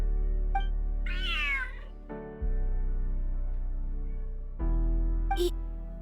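A large in-game cat in Genshin Impact meows loudly and clearly, one drawn-out, wavering call standing alone over a steady low musical drone, with brief chime-like accents.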